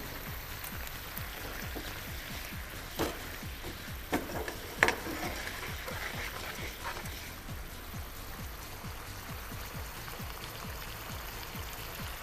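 A pot of chilli chicken sauce with salt and pepper bubbles at a steady simmer, soft popping and burbling, with a few sharper clinks from a utensil partway through.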